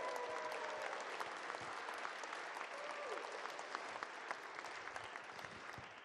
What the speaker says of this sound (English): Please give a warm round of applause for Joe Altizer